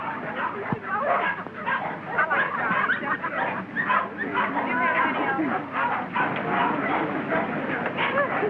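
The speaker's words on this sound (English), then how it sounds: "I can stand one dog, but this bedlam is getting on my nerves." Many dogs bark and yelp together at a kennel show, a dense, continuous din with voices mixed in, heard through the narrow, muffled sound of a 1933 film.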